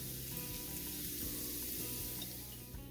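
Ingredients for spicy ginger scrambled eggs sautéing in an olive-oil pan, a constant quiet crackling sizzle with a few soft pops, heard alone without any speech.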